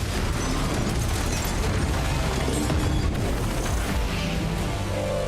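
Bomb explosion in a Fast X action film scene, heard as a dense, sustained roar of blast noise and crashing debris filling the whole clip at steady loudness, with no talk.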